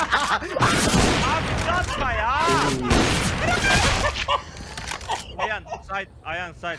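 Rapid bursts of video game gunfire crackle and boom densely through the first half, then thin out beneath excited overlapping voices of players talking.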